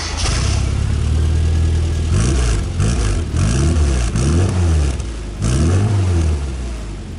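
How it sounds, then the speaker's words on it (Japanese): A loud Rover Mini engine with an aftermarket muffler revs up repeatedly with a sharp, raspy exhaust note, several rising and falling bursts over a rumbling idle, close by. "じゃあエンジンかけようかな。"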